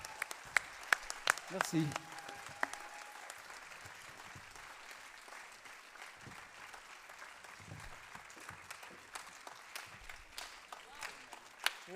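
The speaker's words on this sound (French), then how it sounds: "On peut vraiment les applaudir" An audience at a national conference applauds after a sung song with scattered, uneven clapping that fades to a sparse patter, while a voice speaks briefly over it.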